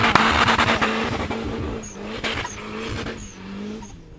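A turbocharged Lada Niva racing engine roars and revs through quick gear changes, with tire noise, fairly close and loud, easing off slightly toward the end.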